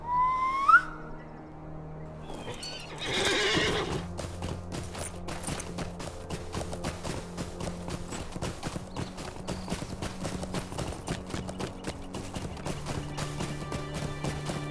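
A horse in the online game Lord of the Rings Online gives a short whinny and a whistle-like call, then breaks into a long run of rhythmic hoofbeats that continues steadily over a game music bed.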